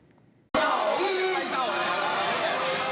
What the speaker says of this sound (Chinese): 热烈掌声